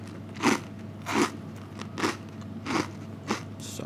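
Golden toasts dressed with olive oil get bitten five times at a steady pace, each bite a loud, close, crisp crunch with short pauses between.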